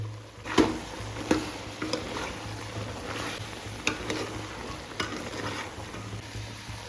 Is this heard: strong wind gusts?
no